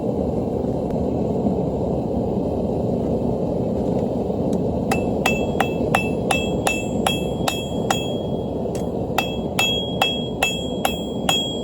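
A hammer forging a steel bar for a hair barrette on an unsteady anvil, sharp ringing metallic blows arriving in quick rhythmic runs over a constant low rumble of background noise.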